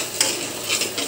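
Onion, garlic and ginger stirred as they sauté in a pan, with a steady close sizzle and a few light scraping strokes of a utensil, no voices.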